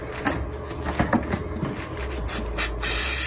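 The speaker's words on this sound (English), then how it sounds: "you just add a little spray adhesive to it" An aerosol can hisses in bursts, a few short sprays followed by a longer, louder continuous spray near the end, with some shuffling handling noise.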